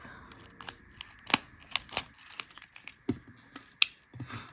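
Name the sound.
snips cutting Color Street nail strips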